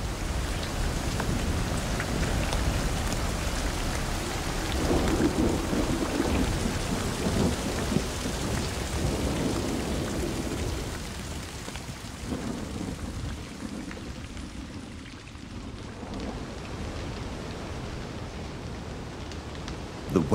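Heavy rain pours onto forested mountain slopes at the foot of the Tatras in Slovakia, a dense, loud, continuous hiss with deep rolling thunder rumbling underneath.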